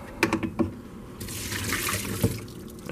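Water sloshes and splashes as it is dumped out of the canister of a dirty Shark Navigator NV22L vacuum, a few brief knocks first, then a broad rushing pour that fades, heard close and without talk.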